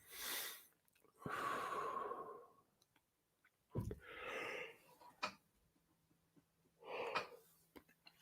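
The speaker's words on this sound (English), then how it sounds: "And there's the yawn." One person lets out a quiet, drawn-out yawn, set among soft breaths, snorts and small mouth clicks in an otherwise still room.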